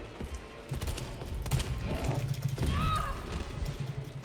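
Gunshots fired at red explosive barrels in the video game Resident Evil 3 Remake, a few sharp, fairly loud cracks over a low, steady rumble of in-game ambience.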